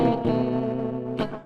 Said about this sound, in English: So way too much reverb on that